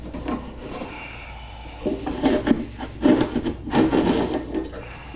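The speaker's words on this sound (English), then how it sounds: "now we're going to use the condenser coil brush and get in between the nooks and crannies" Condenser coil brush scrubbing underneath a refrigerator, close, uneven rasping and rubbing strokes that grow busier and louder partway through.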